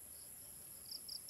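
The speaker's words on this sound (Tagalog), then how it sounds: "Tipaklong. Tipaklong." A grasshopper chirping outdoors, faint high buzzing bursts that repeat a few times near the end over a quiet, steady background.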